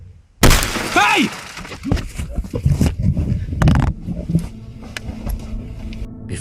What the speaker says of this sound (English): the person smashed the passenger side window and immediately ran off